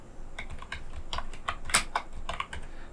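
Typing on a computer keyboard while entering text into an Excel cell, with a steady run of close, crisp keystroke clicks and one louder key strike near the middle, no voices.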